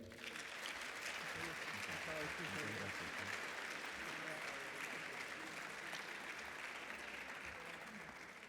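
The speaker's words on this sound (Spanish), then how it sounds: "así que les pido un aplauso para él" An audience at a judicial cooperation inauguration ceremony applauds the arriving Senate president, a sustained dense wash of clapping from a crowd that holds steady for several seconds, heard from a distance.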